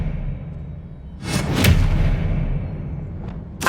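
A spell cast in Hogwarts Legacy on PS5: a swooshing magical burst with a sharp bright crack near the middle, a lower booming thump underneath, then a smaller flick and another crack at the end, no talking.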